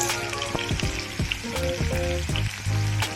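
Tomato and potato fry in oil in a pan, a loud, dense sizzle that runs throughout with repeated clattering knocks of a spatula against the pan.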